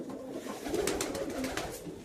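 A pigeon with fine plumage coos in a steady, moderately close series of low, rolling calls, heard alone over a faint background.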